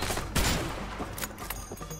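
Rapid gunfire bursts from a shootout in the video game A Way Out, dense and continuous with a sharp louder blast near the start, layered over game ambience.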